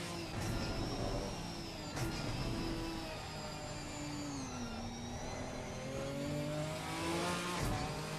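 A race car engine in the game Assetto Corsa Competizione at Bathurst drones steadily with rising and falling revs, a continuous high-pitched whine shifting as it accelerates and eases off, with no voices.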